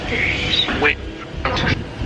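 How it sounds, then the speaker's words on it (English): Ducks quack loudly and repeatedly close by at a hotel, several calls overlapping, with voices talking beneath them. "All the birds just went wild."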